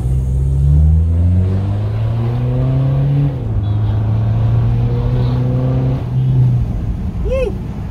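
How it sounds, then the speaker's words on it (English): A BMW 520d diesel car engine revs loudly several times, pitch climbing and dropping in repeated surges, close by with no talking. "That's coming from a diesel."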